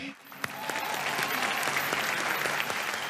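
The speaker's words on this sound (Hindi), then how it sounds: "लवली तालियां" Audience applause at a Renault car launch show, a dense crowd clapping steadily and fairly close for a few seconds after a brief quieter start.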